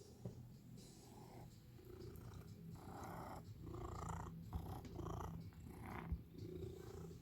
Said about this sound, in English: This is the face of a kitten who knows there's buttered toast.